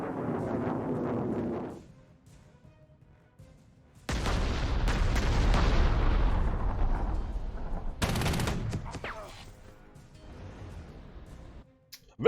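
Artillery shelling in Panzer Corps 2, set in the 1939 Poland campaign: a short burst of gunfire, a pause, then a long heavy rumbling barrage, a sharp second blast and a fading roll of explosions.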